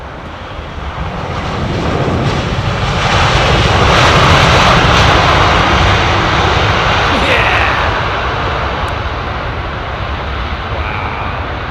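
A Virgin Atlantic airliner at London Heathrow Airport roars steadily past, swelling to a broad peak midway and then easing off, with wind buffeting the microphone throughout.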